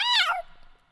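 A human voice imitates an old cat's hoarse meow, one short, close, loud drawn-out call that falls in pitch and cuts off abruptly.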